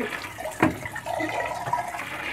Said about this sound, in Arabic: افتح عليها الميه واسيبها تحت الميه كده